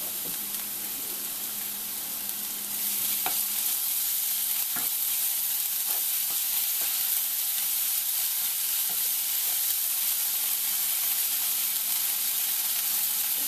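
Browned onions frying with ginger garlic paste for channa masala, a loud dense sizzle that intensifies after a few seconds, with occasional spoon scrapes and stirring clicks, close and without talk.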